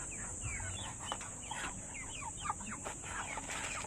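White chickens cluck and chatter steadily at feeding time, several birds calling in quick overlapping bursts at close range over a constant high-pitched hiss.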